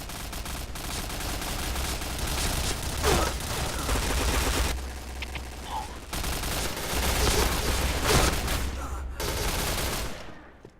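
Dense automatic rifle fire in the Point Blank shooter video game, long loud bursts of rapid shots with only brief gaps, up close and continuous throughout.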